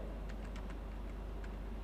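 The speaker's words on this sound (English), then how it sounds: "Select the text and start typing." Several quiet, sharp key clicks tap out in an uneven rhythm on a computer keyboard, faint beneath a steady low hum.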